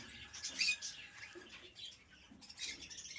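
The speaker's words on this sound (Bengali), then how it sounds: "এখানে কিন্তু আরো অনেকগুলো অ্যালবিনো ককাটেল আছে" Albino cockatiels in an aviary give faint, scattered high chirps with brief wing flutters, heard at a distance over quiet room noise.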